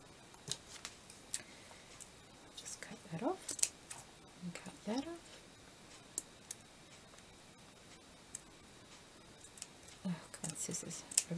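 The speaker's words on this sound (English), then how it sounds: "Scissors." Scissors snip with quiet, sparse clicks close by during craft work on lace and flower trims, with soft murmured talk in between.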